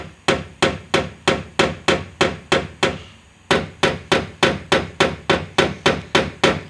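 Steady hammer taps on sheet metal knock down high spots in a panel, a quick even series of sharp close blows, with one short pause partway through before the rhythm resumes.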